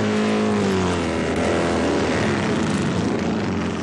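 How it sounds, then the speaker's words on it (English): Loud, roaring racing motorcycle engines drone continuously with a shifting pitch, a dense mechanical rumble that stays close and steady throughout. "The noise as the engines fired was terrific, and Les was right."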